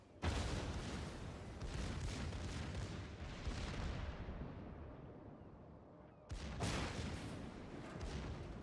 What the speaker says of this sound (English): there are quite a few secondaries blazing away at the destroyer